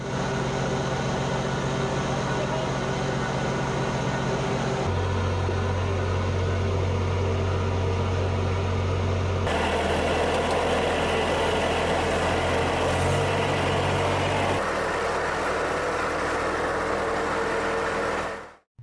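A tractor engine drones steadily for a long stretch while powering a flour mill, the mill's whir layered over it, shifting pitch in a few distinct stages.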